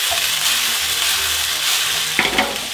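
About six garlic cloves fry in a pan for a hachis parmentier, giving a steady, loud, broadband sizzle that runs throughout, with a brief stirring clatter near the end.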